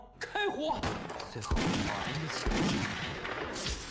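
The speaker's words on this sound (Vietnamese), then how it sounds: "Có đồng bọn nổ súng." Rapid gunshots crack and boom in a chaotic burst, with a shouted voice at the start and loud blasts layered throughout.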